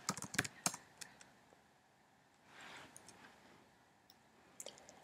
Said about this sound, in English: Here is where I type my letters.